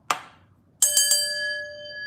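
Three quick strikes of a small bell, rung on request during a live chat, ring out loud and close after one earlier tap, leaving a long bright sustained tone that fades slowly.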